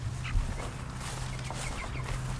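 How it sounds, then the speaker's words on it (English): A flock of backyard chickens clucking softly and continuously at mid distance, with a low steady murmur and an occasional louder cluck over a couple of seconds. "chickens are doing awesome."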